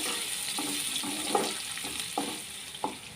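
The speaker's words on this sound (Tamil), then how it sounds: "இந்த அளவுக்கு ஆனதுக்கப்புறம் வெங்காயம், பச்சை மிளகாய் ரெண்டையுமே ஒன்றா போட்டு இதெல்லாம் வதக்கிடலாம்." Onion and green chillies sautéing in a pan: a steady close sizzle, with periodic scraping stir strokes about every half second.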